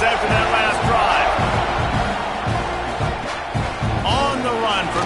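A loud stadium crowd roars and cheers steadily in NCAA 26 college football, a dense, continuous wash of voices close and full throughout.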